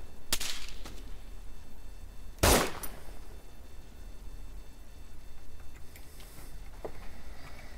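Two sharp, loud gunshot cracks a couple of seconds apart in the video game Arma 3 (Wasteland mode), followed by fainter distant pops over a low constant background hum.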